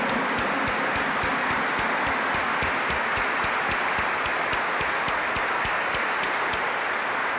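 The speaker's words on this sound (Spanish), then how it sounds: "le brindamos un fuerte aplauso a la Virgen" Sustained applause from a congregation during Mass in the Basilica of Itatí, Argentina, filling the indoor space, steady and continuous with sharp claps throughout, no voices standing out.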